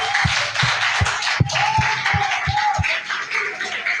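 Applause rings out in a church, with a slow, irregular series of sharp claps standing out over a steady reverberant wash of background noise, moderately loud.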